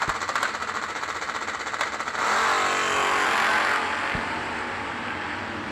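S10 drag race cars at the 9th Annual New Year Nationals, engines burbling at the starting line then roaring loud and sustained as they launch, fading slightly afterward; no talk.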